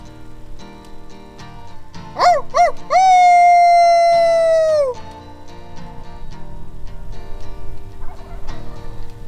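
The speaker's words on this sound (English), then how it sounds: "Caleb hears that Tom gobble on private that we had set up on earlier in the day" A Merriam's wild turkey tom in ponderosa pine country lets out one loud, clear gobble after a couple of rising yelps, then a quiet outdoor background with faint scattered sounds resumes.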